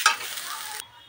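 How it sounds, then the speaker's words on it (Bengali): Grated coconut sizzles and is stirred as it fries in a pan, a brief hissing burst with a sharp scrape at the start that cuts off abruptly. "তো নারকেলটা এরকম নেড়ে নেড়ে প্রথমে ভাজা ভাজা করে নেব।"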